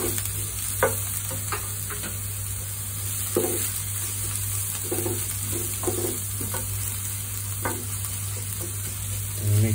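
Onion and garlic sauté in a pan, a constant close sizzle broken by intermittent scraping stirs, with a steady background hum and no speech.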